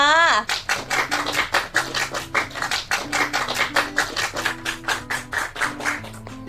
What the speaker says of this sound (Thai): ยังไงก็ขอเสียงปรบมือต้อนรับ